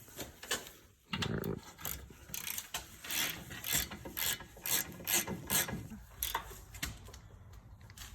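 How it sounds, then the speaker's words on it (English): A hand ratchet clicks in quick, close bursts while tightening coilover bolts on an Acura RSX during a BC Racing suspension install, with rapid pawl ticks and short pauses between strokes. "Only want to go so tight with these just because it's a ratchet"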